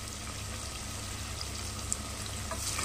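Ginger garlic paste frying in a curry pan for a spicy amaranth-leaf mutton bones curry, a steady soft sizzle with faint crackles running evenly throughout, close by and with no talk.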